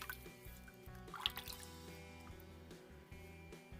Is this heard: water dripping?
yes